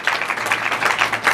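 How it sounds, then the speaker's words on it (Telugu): A church congregation at a Sunday worship service clapping together, a short dense patter of many hands at steady volume, fairly close and with no voices over it. "ఈ చేతులు ఎత్తిన వాళ్ళ కోసం గట్టిగా చప్పట్లు కొట్టండి."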